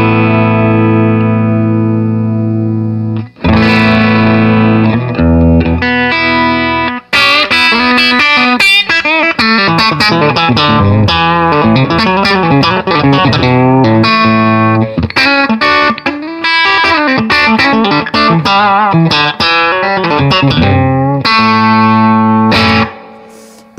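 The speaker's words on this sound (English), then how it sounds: "this is the amplifier completely cranked" Loud electric guitar played through a fully cranked 1960s Gibson Minuteman amp, ringing chords and single-note runs with a slightly gritty edge, alone and close.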